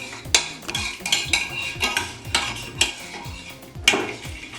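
A spoon scrapes and clinks against a bowl in repeated short strokes while a shrimp stock cube and lemon juice are mashed into a paste, close and moderately loud with no talking.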